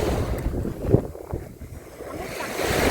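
Waves wash against the shore at a Gold Coast beach, with steady wind rushing across the microphone, a broad continuous roar with one brief thump partway through.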